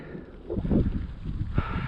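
Wind buffets an outdoor microphone in a steady low rumble across the clip, with louder gusts midway and no speech.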